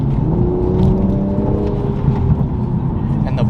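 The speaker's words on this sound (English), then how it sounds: "And the blow off is sounding extra spicy this morning" A 2020 Toyota Supra revving hard on a morning pull, engine roar rising and falling with whirring turbo and a quick blow-off valve hiss, loud and close throughout.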